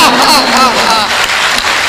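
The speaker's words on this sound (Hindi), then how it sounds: "आप अपने हाथ उठाने से रोक नहीं पाएंगे, तालियां देखें।" Audience applause at a mushaira poetry event, steady dense clapping filling the whole moment with a faint murmur of voices mixed in.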